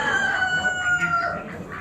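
A young rooster at a poultry auction crows loudly and close by, one drawn-out call that tails off, with faint clucking and barnyard noise behind it.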